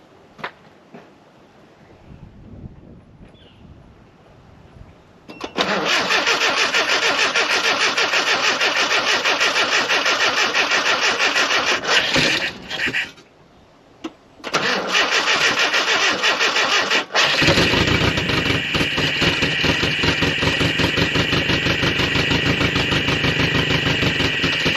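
A 1985 Nissan 720 4x4 pickup is started by jumping the starter without the clutch pressed. After a quiet lead-in it cranks and catches into a loud, steady running engine, cuts out briefly, then restarts and settles into a rough idle.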